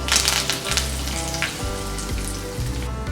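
Mustard seeds, fenugreek and curry leaves sizzling and crackling loudly in hot oil for a pickle base, a dense continuous spatter with no talk.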